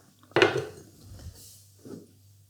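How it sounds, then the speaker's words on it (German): A small pan lifted and set down in a kitchen while making a lemon cheesecake: one sharp metallic clank, then quieter scraping and handling noises and a softer knock near the end. "Jetzt nehmt euch wieder eine kleine Pfanne her"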